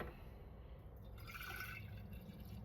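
Tang drink is poured into a container, a soft close liquid gurgle that rises in pitch midway as the vessel fills, quiet and alone without speech.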